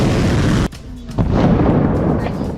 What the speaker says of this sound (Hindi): एयरपोर्ट के रनवे के पास बड़ा धमाका हुआ।